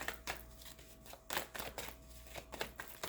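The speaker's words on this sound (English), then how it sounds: "Look at how I'm shuffling vigorously and no cards popping out." Tarot cards are shuffled vigorously by hand: a quiet, uneven run of papery riffling bursts and soft slaps that repeats several times in quick succession.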